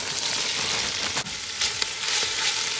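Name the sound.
stir-frying vegetables (kale, peppers, bean sprouts, onions, cabbage) with spices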